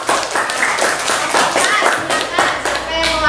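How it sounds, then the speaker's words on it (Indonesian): Classroom applause during a teacher's performance assessment lesson, as a class claps for a student group after its presentation: steady dense clapping for about three seconds, with voices mixed in. "Beri tepuk tangan dulu."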